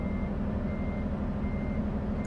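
Rapid, steady reversing beeps sound from a truck in American Truck Simulator, repeating evenly over a loud, constant diesel engine rumble.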